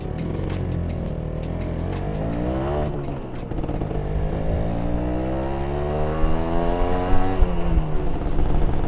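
A Ninja two-stroke motorcycle on its stock exhaust revs up and down repeatedly, its buzzy engine note rising and falling loud and close with no voices.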